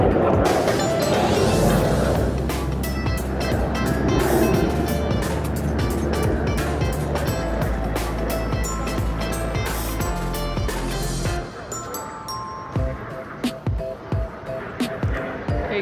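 Aerobatic display aircraft engines at an airshow at Dubai Expo 2020 on UAE National Day, a loud continuous roar that drops sharply near the end, leaving a thinner, quieter rumble.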